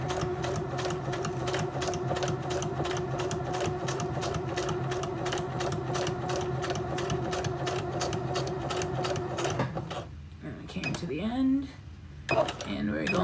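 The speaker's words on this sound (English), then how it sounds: "if you back stitch, you're going right back over that stitch that you just did" A sewing machine runs in a steady fast rhythmic stitching for about ten seconds while crafting, then stops, leaving brief handling noises and short bits of voice.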